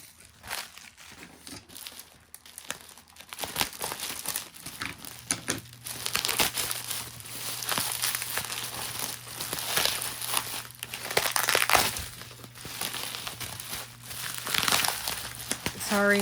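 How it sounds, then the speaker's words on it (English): Wrapping paper on a mailed package crinkles and crumples loudly and close, in bursts of rustling and tearing that go on throughout, with a low hum underneath. "sorry, I'm unwrapping it."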